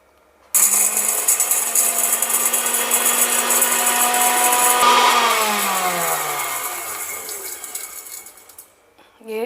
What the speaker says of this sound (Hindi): ये मैंने भून लिया है और मैं इसको पीसने जा रही हूँ।